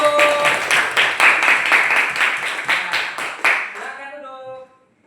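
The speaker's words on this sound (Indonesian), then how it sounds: "Oke, kasih tepuk tangan buat kelompok 1." A classroom of students claps for a student group that has just presented, a dense burst of close, crisp clapping with some voices mixed in, tapering off and stopping after about four seconds.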